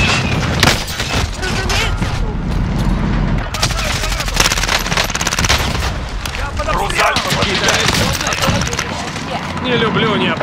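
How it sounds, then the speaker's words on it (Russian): Gunfire and explosions pile up in a Call of Duty Warzone Pacific firefight on Rebirth Island, with a grenade blast among them. The barrage is loud and constant, heavy automatic fire with booming impacts, and voices talk over it. "бросаю гранату."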